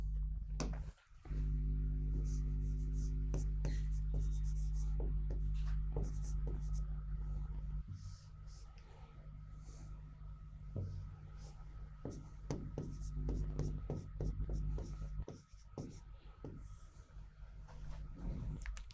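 Hand writing during a Hindi-language history lesson, with soft, faint scratching strokes scattered through the clip over a steady low hum.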